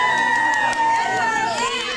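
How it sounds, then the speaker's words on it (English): A crowd cheers for Carly during a group trip to New York, a burst of overlapping shouts and whoops with excited, bright voices mixed in. "Let's turn around and give a cheer for Carly then."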